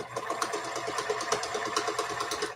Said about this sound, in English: I'm going to sew right along the side